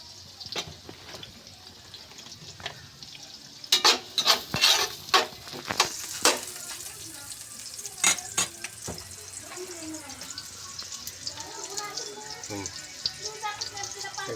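Spices sauté in a pan for Ilocano pinapaitan, with sharp clatters and scraping of a utensil against the pan early on, then a steady low sizzle with intermittent stirring knocks, close by.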